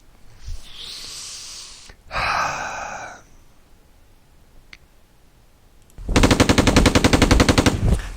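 Sound effects from an ASL board game mod end in a loud, rapid machine gun burst of about two seconds, close and dry, after fainter hissing and rattling effects.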